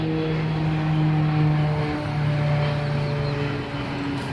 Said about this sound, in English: I notice a lot of these smaller planes